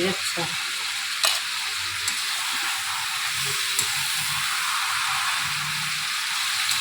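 Ginger, garlic, cashew and chilli paste sizzling in hot oil in a home kitchen while cooking a chicken dish, a steady bright frying hiss with light stirring clinks and occasional faint talk.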